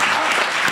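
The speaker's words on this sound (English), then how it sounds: "A round of applause." A short burst of audience applause follows a lecture, dense clapping filling the room for under a second with no voice over it.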